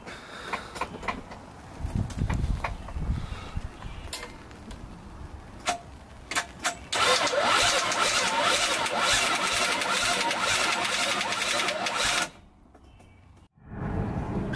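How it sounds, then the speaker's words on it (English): A rebuilt Nissan RB25 engine with its crank angle sensor unplugged is cranked over by the starter without firing, first a few short bursts and then a long, loud, steady churning crank that stops abruptly. "I've unplugged the crank angle sensor, and that'll allow me to like crank it over without starting."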